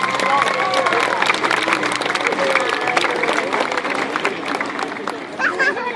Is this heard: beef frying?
no